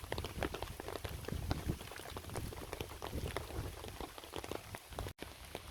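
Heavy rain falls on a bypass road, a steady dense hiss of drops striking the surface, low in level and unbroken apart from a momentary dropout near the end.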